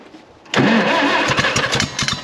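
Car engine cranked using the choke and throttle, catching abruptly after a short quiet lead-in and then running loud and close with a rough, uneven idle and small sputters.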